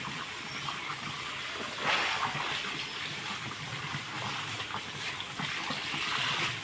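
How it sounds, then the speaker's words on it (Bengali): Bedsheets and pillow covers are washed by hand in water, giving a continuous close sloshing and splashing with slight swells in loudness and no talking. "আমি দুটো বিছানা চাদর আর দুটো বালিশের ওয়ার কিছু কিছু ময়লা হয়েছিল ওগুলো একটু ধুয়ে দিচ্ছি"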